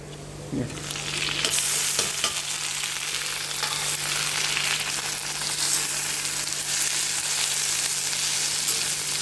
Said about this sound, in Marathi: आता कांदा चांगला भाजला आहे. ह्याच्यामध्ये आपण टोमॅटो टाकू.